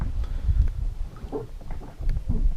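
Small boat heading back along the Psel river at dusk after a pike and perch fishing trip, a steady low rumble with water and wind buffeting close to the microphone.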